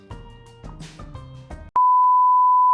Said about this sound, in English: Hey Google, stop timer.